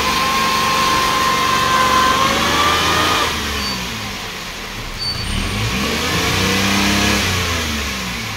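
A car stuck in mud on a rain-soaked dirt road revs hard, its engine roaring steadily and loudly up close, rising and easing as the wheels strain, with no voices.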